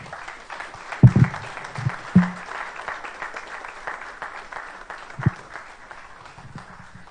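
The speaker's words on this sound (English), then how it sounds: "a round of applause as she comes" Applause fills a school graduation ceremony hall, steady clapping from a sizable audience heard at a moderate distance, with a few louder thumps and bumps cutting through the continuous patter.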